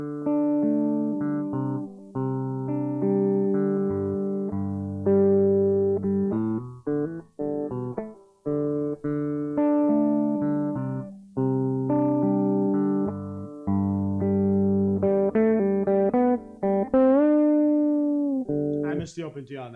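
An acoustic guitar picks the intro licks of a song in a steady, ringing run of clear plucked notes and repeated riff phrases, played alone, close and moderately loud.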